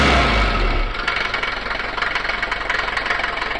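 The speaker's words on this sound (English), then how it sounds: "It's loud on cold start as it is, smaller place where I keep it amplifies the sound too" A Mercedes 190 with a 2.2 diesel idles after a cold start in a small enclosed space. Its loud, steady diesel clatter begins with a heavy low rumble, then settles into an even knocking beat, close up and without speech.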